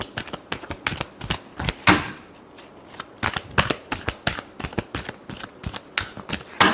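Tarot cards being shuffled by hand, a rapid run of crisp flicking riffles in clustered bursts, close and fairly quiet with no speech.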